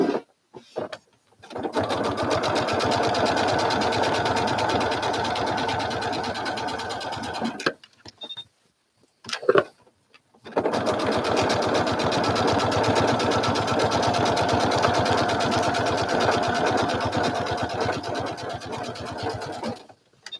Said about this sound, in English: I'm going to stitch it down both sides.